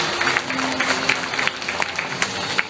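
A crowd at a village fund ceremony on stage gives steady applause, dense overlapping claps with a few sharper hits, sustained evenly throughout at moderate loudness in a reverberant space.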